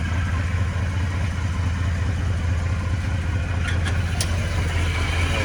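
An old Japanese Mitsubishi Pajero engine idling, a steady low rumbling hum with an even pulse, close and continuous with no talking.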